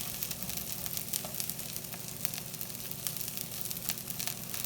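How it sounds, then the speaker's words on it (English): Brussels sprouts sizzle steadily in a hot pan, a close, quiet, continuous frying crackle with small pops and no talking. "you see how that's sizzling?"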